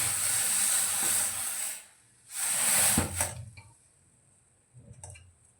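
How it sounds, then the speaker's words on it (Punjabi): Tea boiling on a stovetop burner at full flame: bursts of hissing, bubbling steam come and go in surges, broken by short quiet gaps and faint ticks, with nobody speaking. "ਇਸ ਤਰੀਕੇ ਨਾਲ ਆਪਾਂ ਨੂੰ ਚਾਹ ਨੂੰ ਉਬਾਲ ਲੈਣਾਗੇ ਚੰਗੀ ਤਰ੍ਹਾਂ"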